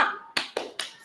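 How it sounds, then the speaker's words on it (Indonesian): A classroom of students performs a rhythmic group clap, four sharp bursts of hands striking together in a quick patterned beat, close and fairly loud with short gaps between. "Nah, mari kita melakukan tepuk semangat ala-ala kita ya."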